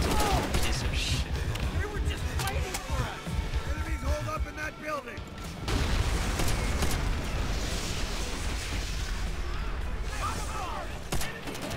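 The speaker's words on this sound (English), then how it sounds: "It's firing by itself. There's no one in the turret." Unmanned machine gun turret firing in Call of Duty: World at War, dense bursts of rapid gunfire mixed with explosions and battle noise, continuous and loud throughout, with voices speaking over the combat.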